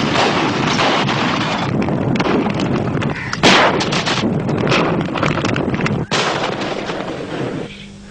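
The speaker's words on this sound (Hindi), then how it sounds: "delta fox shot 2538 one round gun fire" An artillery gun fires a single round, a loud booming blast amid continuous heavy battlefield rumble and wind noise, with no talk.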